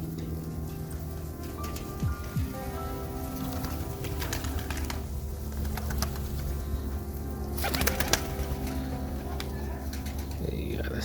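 Serbian Highflier pigeons take off and fly about in a backyard in Melbourne, Australia, with soft cooing and scattered wingbeats over steady background noise, while someone talks intermittently.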